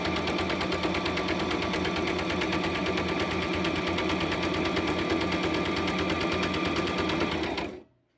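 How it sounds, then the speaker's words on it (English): A domestic sewing machine stitches through fabric in one loud, continuous run of rapid mechanical clatter, close and steady, then abruptly stops near the end. "as the machine sews"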